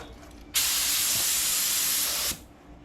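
A spray gun spraying primer on a 1981 Corvette hood hisses loudly in one continuous burst of about two seconds, starting and stopping sharply against a quieter background.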